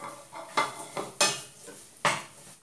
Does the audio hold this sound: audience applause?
no